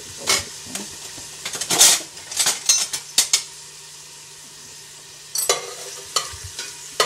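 Onions and garlic in oil in a pan give a soft sizzle under repeated clinks and scrapes of a spoon stirring, loud bursts between quieter pauses, without talking.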